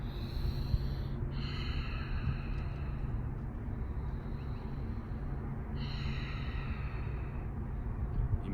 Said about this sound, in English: Let's do 8 more breaths.